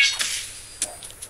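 Cat meows from the mobile strategy game Phobies: a short, bright meow followed by a couple of quicker, softer mews, clean and close with quiet background.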